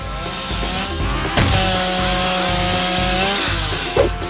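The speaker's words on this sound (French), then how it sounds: "Ah, c'est vrai, une scie!" A harsh, buzzing saw cuts steadily and loudly up close, its tone wavering slightly, with brief sharp knocks near the start and end.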